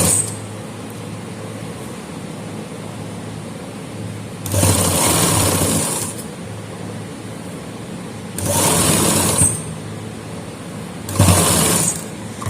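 A sewing machine stitches a belt onto a salwar in three separate bursts of rapid whirring. Quiet handling gaps fall between the bursts.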